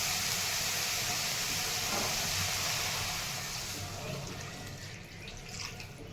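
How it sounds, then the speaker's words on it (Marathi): Water poured into a pan of sautéed farsan for bhaji, a steady broad hiss and splash that runs loud for about four seconds, then tapers off slightly toward the end. "आता पाणी टाकून घेते"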